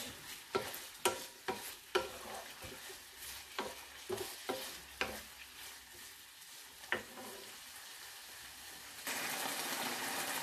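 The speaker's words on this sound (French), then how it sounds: "Et je fais également cuire quelques minutes pour dire que l'oignon soit cuit." Sliced red onion fries in a pan, a soft steady sizzle punctuated by several sharp spoon-stirring knocks, turning into a louder, brighter hiss near the end, close and faint, with no talking.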